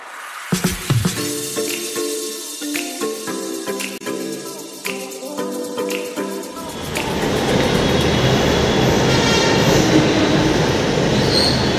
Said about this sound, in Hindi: अभी उस साइड की मेट्रो आई है